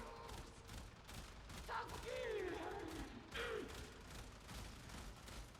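A Burston Prime burst rifle fires in the video game Warframe, with several clustered bursts of sharp shots over a busy game backdrop and a few brief tonal effect sweeps.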